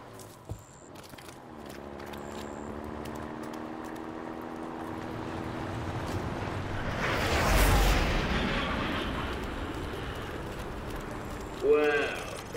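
Explosive charges detonate in Call of Duty: Modern Warfare Remastered's F.N.G. training level, a broad blast swelling over ongoing game noise and a voice, followed by a brief sharp crackle near the end.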